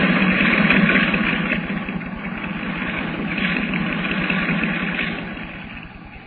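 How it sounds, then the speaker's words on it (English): A boat engine runs steadily with a troubled, rough idle in a radio drama, a dense low throb with a rapid pulsing rhythm that holds for several seconds and swells slightly midway. "From the sound of it, that engine needs attention."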